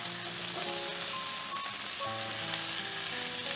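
Shrimp and salmon fillet sizzle steadily in a hot pan, a dense continuous frying hiss throughout with faint tonal voice-like traces beneath but no clear talk.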